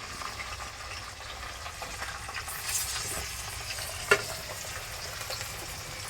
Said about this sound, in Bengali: এখন আমরা পেঁয়াজ দিয়ে দিচ্ছি।